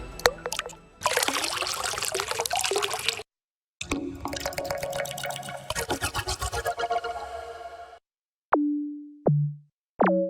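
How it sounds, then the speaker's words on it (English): Several bursts of splashing, trickling water with gaps of silence, followed by short tonal droplet-like blips that sound electronically synthesized. "how I made some of the water sounds"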